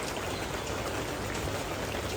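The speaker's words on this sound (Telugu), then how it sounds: "ఫుల్ వర్షం పడుతుంది, పైన మొత్తం టెంట్ వేసినాం కాబట్టి సరిపోయింది." Heavy rain pours steadily onto a tent pitched over an outdoor Ganesh festival decoration area, a dense, continuous hiss with no pauses and no voices.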